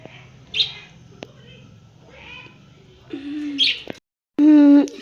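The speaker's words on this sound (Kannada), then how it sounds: "ಸಾರಿ ಫ್ರೆಂಡ್ಸ್ ನಾನು ಗುಬ್ಬಚ್ಚಿ ಅಂತ ಹೇಳಿದೆ ನಮ್ಮ ಲವ್ ಬರ್ಡ್ಸ್" Pet lovebirds at home give a few short, sharp chirps, with louder bursts of calling toward the end, against a faint domestic background.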